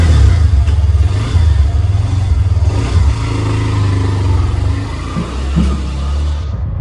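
A motorcycle on a highway rides off, its engine loud and close with steady revving throughout before trailing away at the very end.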